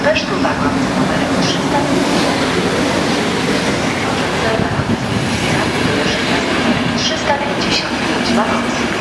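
An EP09 electric locomotive hauling the EIC 4111 Beskidy express rolls into Warszawa Wschodnia station with a steady loud rumble, wheel clatter and faint squeal. A station announcement talks over the train throughout.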